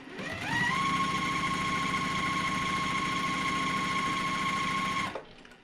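An electric sewing machine stitches quilt block pieces in one sustained run, its motor winding up to a steady high hum with rapid needle chatter for about five seconds before stopping abruptly, close and alone.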